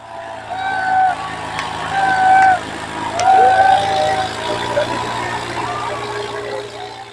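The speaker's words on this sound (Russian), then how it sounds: "Но самую большую экзотичность представляет битва тракторов в перетягивании каната." Tractors strain against each other in a tug-of-war contest, their engines droning steadily under a voice talking over them.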